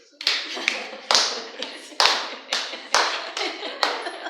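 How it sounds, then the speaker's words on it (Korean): Rhythmic hand claps from a church congregation during worship, about ten sharp loud strikes at a steady pace, with no voices. "교회에서 찬양할 때 박수 어떻게 치세요?"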